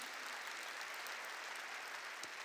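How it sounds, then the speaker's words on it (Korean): A church congregation claps in a steady wash of applause that sounds fairly distant and muffled, continuing evenly for a couple of seconds. "믿으면 박수야."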